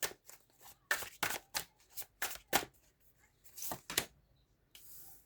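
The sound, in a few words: shuffling tarot cards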